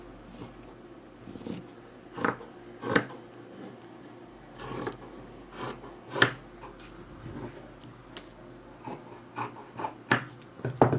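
Scissors snipping fabric around a paper skirt pattern during a sewing lesson, a series of short crisp cuts spaced irregularly, close and fairly quiet with light rustling of cloth between them.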